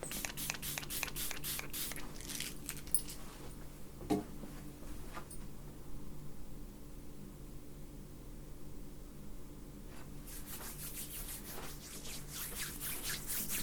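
Quick repeated spritzes from a spray bottle up close, a burst of pumps at the start, a quiet gap with light rubbing, then more rapid sprays.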